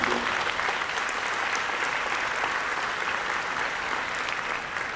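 Sustained applause from a large audience at a university Founders Day address, honoring a faculty member named Kate; dense, steady clapping that holds at an even level throughout without a break.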